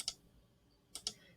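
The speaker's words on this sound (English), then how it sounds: "So I click on my notebook" Two quiet mouse clicks, one at the start and then a close pair about a second later, each a short crisp tick over near silence.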